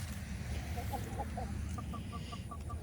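Backyard chickens clucking in a short run of soft, repeated calls, fairly close, over a steady low rumble of background noise.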